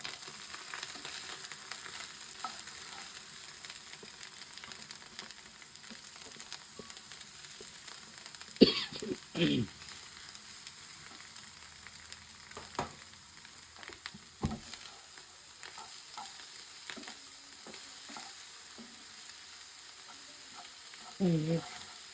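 Onion stalks frying with duck eggs in a pan, a steady soft sizzle with occasional scraping and stirring clicks throughout.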